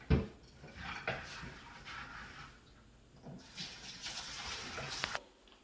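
Tap water runs over soaked lentils being washed in a bowl, a soft, uneven splashing and trickling that swells and fades as the dal is swirled, close and fairly quiet.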